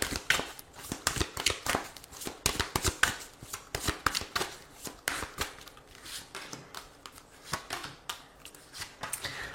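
Oracle cards riffle and slap in a steady run of crisp, close bursts, shuffled and drawn one after another with no voice over them.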